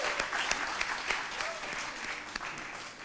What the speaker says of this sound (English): So please give Hilary a round of applause